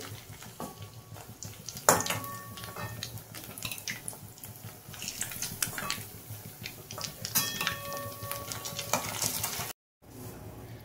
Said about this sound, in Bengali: সব কটা ভাজা দেখো আমি উল্টে দিলাম, ভাজা হোক আস্তে আস্তে।